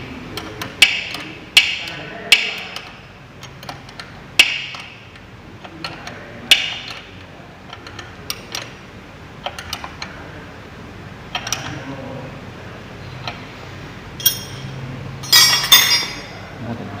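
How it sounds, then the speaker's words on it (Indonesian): Metal clinks and ratchet-like ticks from tightening bolts while overhauling a power steering system, a series of sharp irregular clicks close by, louder near the end. "Kemudian kita kencangkan bautnya"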